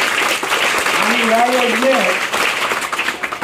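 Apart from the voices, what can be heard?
audience applause for the village scheme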